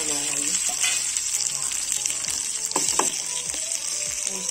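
Chana dal, urad dal, cumin and ginger frying in hot oil for a curd chutney, a steady close sizzle with scattered crackles and spoon-stirring clatter throughout.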